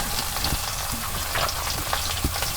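Turmeric, chili powder and salt stirred into oil in a frying pan for a Rupchanda fish curry with aubergine and potato, giving a continuous close sizzle broken by a few light scraping stirs, with no voices.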